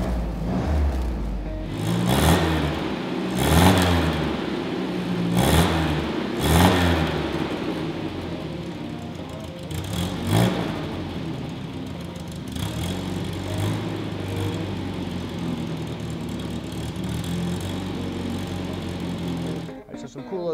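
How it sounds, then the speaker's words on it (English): A 1958 MGA Roadster engine starts and revs with a few throaty pulses, then settles into a steady, rumbling idle. Voices speak intermittently under it. "Boom, car fires right up. Check it out too, it makes a really nice sound."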